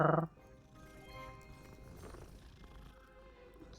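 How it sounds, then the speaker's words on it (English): A cat in the video game Hogwarts Legacy gives a short, loud call at the start, then settles into a quiet, low, steady purr that rumbles on alone. "Listen to those happy purrs."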